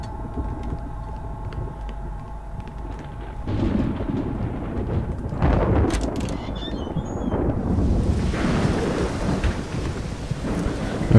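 Rain and thunder in the horror video game Pineview Drive, a steady hiss of rainfall with deep rolling thunder that builds midway, then heavier, denser rain toward the end, no talk.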